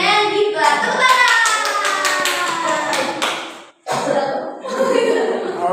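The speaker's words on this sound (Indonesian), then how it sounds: "Tepuk tangan." A group claps along during a Sunday school teacher training session, a close, loud run of rhythmic clapping mixed with voices that stops briefly, then picks up again.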